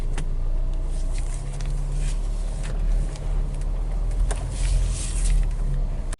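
A Mercedes with thermostat and wheel speed sensor circuit faults is driven slowly a short distance, a low steady engine hum with light clicks and rustles from inside the cabin.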